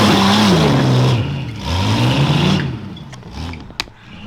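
A 4WD Ultra4 race truck with a barely running motor, no lockers and no winch, climbs rocks at an enduro rock-crawling race, its engine droning and rising in pitch before fading, then faint clicks and knocks.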